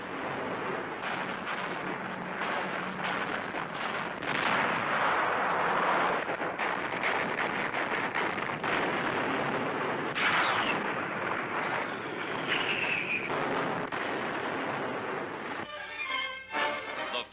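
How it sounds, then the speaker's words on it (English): Anti-aircraft fire against bombers over Tunisia sounds through a 1943 wartime newsreel as a steady roar of distant gunfire and rumbling bursts. A high whistling sweep passes partway through, and the sound stays loud and continuous. "Anti-aircraft fire fails to stop them."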